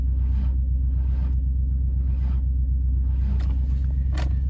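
A Ford Falcon farm car's starter cranks the engine with no fuel pump fitted, a steady low churning rumble with slow rhythmic pulses that never catches, ending in a brief scrape near the end.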